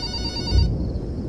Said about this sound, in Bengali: এত রাতে কি আর ফোন করলো?